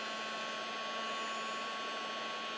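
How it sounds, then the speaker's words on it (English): Heat gun melting embossing powder on a stamped card background, a steady, loud broadband blowing roar with a faint constant whine, running unbroken throughout. "We're going to melt that embossing powder."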